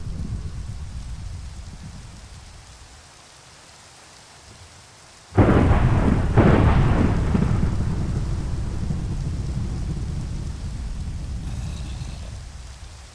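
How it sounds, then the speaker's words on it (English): A Minecraft thunderstorm rolls in: a sudden loud thunder crack lands over steady rain, followed by a second rumble, then continuous heavy rainfall hiss that stays loud to the end. "Thunderstorms."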